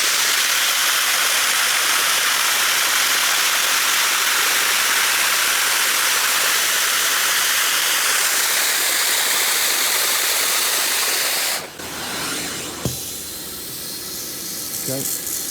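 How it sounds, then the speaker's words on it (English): Hot water sprays steadily from a steam cleaner as an upholstery cushion is rinsed, a loud continuous hiss and rush that runs unbroken for about eleven seconds, then breaks off, followed by a softer, uneven spray with faint clicks. "we have a cushion, and I'm just rinsing with just hot water"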